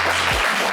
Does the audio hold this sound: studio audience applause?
yes